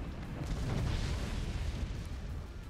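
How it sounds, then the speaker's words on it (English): Dense, rumbling explosions from the artillery strategy video game Forts fill the stretch, a steady loud roar of booms with no clear gaps and no talk over it. "There's explosions."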